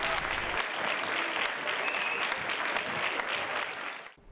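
Concert audience gives a band a sustained ovation after their performance, dense even applause at moderate level that holds steady before cutting off abruptly at the end.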